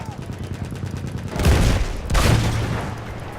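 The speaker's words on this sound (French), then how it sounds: "Continuez les tirs de suppression!" Gunfire and explosions in the WWI shooter game Battlefield 1: rolling bursts of fire and two heavy booms near 1.5 and 2.2 seconds, loud and close under a dense battle din, with speech faintly mixed in.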